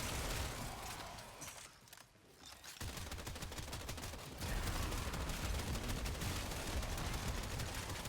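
A Cedo shotgun fires in Warframe during a Steel Path mission: rapid, dense bursts of blasts run almost continuously, pausing briefly before resuming louder.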